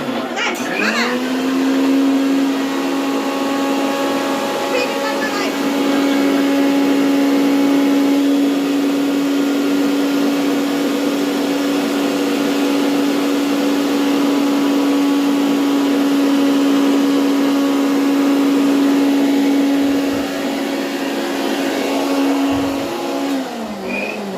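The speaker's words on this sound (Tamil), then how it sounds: "ஒரு வழியா மிக்ஸி நல்லா கிரைண்ட் ஆயிடுச்சு" A mixer grinder blending a milkshake with ice whirs loudly and steadily, a high motor whine that runs for a long stretch before winding down at the end.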